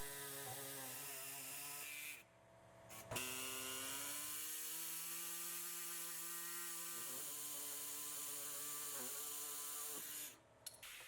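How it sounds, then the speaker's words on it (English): A power tool cuts the driveshaft carrier frame on an Audi B9 S4, whining steadily and bogging into the material, with a pause between cuts and a second run that follows. "Start by making two cuts to the bottom of the carrier frame."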